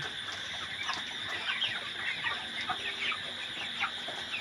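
A crowd of broiler chickens clucks continuously at close range while feeding on a farm, a busy layered chatter from many birds at once, with no voices.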